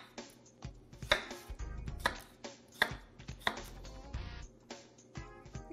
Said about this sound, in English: So I'm just going to give that the same treatment, just a rough chop.